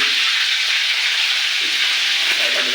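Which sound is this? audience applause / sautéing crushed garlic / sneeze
sautéing crushed garlic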